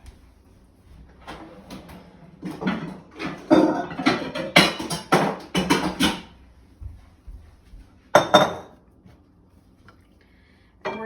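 A bowl comes out of a kitchen cupboard while pasta and broccoli are being served, giving a cluster of clinks and knocks of dishes in the middle, then a single sharp clatter, with quiet gaps between.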